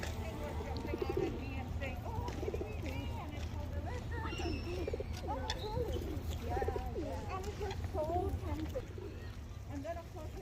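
Pigeons coo softly and repeatedly while being fed in John McLaren Park, a steady murmur of calls close by with other birds and people talking underneath.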